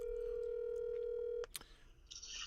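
A steady single-pitch telephone tone sounds on its own for about a second and a half after a call drops, then cuts off abruptly, leaving faint clicks and a brief burst of line noise.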